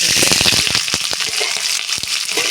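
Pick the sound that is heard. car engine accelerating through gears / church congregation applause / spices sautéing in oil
spices sautéing in oil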